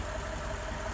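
A Range Rover Sport engine runs steadily during a hydrogen carbon clean of its EGR system, giving a constant low rumble with a broad hiss on top, close by and unchanging for the full second, with no voices.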